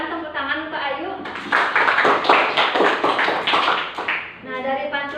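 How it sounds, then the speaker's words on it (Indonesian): A class gives a brief round of applause for a student's recited pantun, with scattered clapping rising over a teacher's voice and fading after a few seconds, speech continuing before and after. "Silakan tepuk tangan untuk Ayu."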